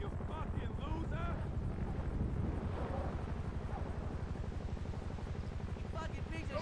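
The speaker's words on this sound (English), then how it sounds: "Considering the helicopters can hover back there all day, it's a good thing they put that canopy over." A helicopter's rotor thump and engine drone hold steadily throughout while it hovers in the GTA Online video game, loud and continuous, with voices talking over it.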